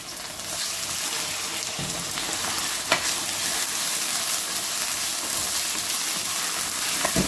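Chicken breast strips frying in a pan, a steady, close hiss and crackle of hot oil with occasional clinks of stirring, continuing without speech.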